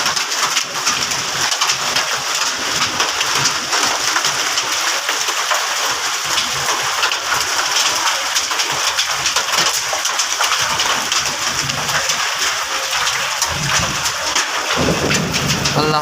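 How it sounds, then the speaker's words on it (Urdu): Heavy hail pounding down across orchards in Keetha Morh, Ramban district, a dense, steady roar of impacts that lasts throughout with no pause and no voices. "آج ایسے اولے برسے"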